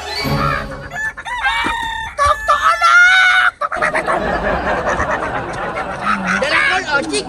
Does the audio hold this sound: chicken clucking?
yes